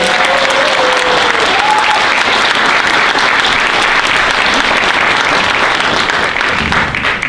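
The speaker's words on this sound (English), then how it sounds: "Let's give them a round of applause of appreciation." Sustained applause from a large audience at a college commencement ceremony, honoring staff and faculty; dense, steady clapping fills the whole stretch at close range, with a brief voice or whistle faintly audible early on.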